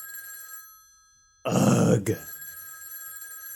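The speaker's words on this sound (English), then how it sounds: "You wake up, and your phone's ringing again." A telephone rings in a room, its steady tone sounding before and after a loud groan from someone just woken, the ringing continuing faintly behind.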